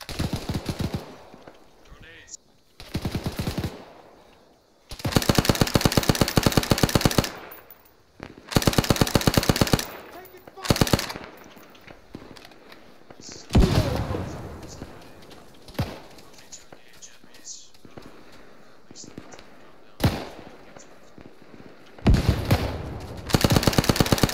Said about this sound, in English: they have a machine gun